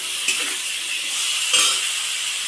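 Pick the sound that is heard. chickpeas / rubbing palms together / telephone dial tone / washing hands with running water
chickpeas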